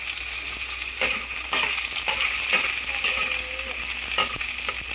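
Onions sauté in a pan of mussel and water spinach dish with garlic, a loud continuous close sizzle broken by intermittent spoon scrapes and stirring taps.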